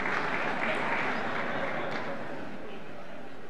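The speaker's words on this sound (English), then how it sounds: "we had one member of Congress stand up and applaud" Applause at a State of the Union speech: a dense, steady wash of clapping from a large crowd, filling the whole stretch evenly without talk.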